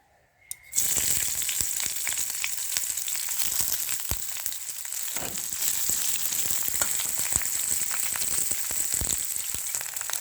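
Onions hit hot white oil in a pan and break into a loud, steady sizzle that starts abruptly after a brief quiet moment and crackles on continuously with scattered pops.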